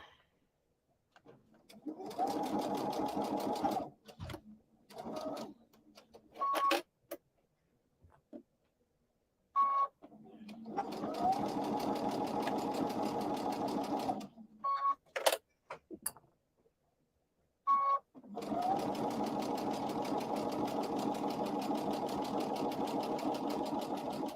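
An Altair sewing machine stitches fabric for a fabric basket in steady motorized bursts, whirring evenly for several seconds at a time and separated by quiet pauses and small clicks, fairly soft and close.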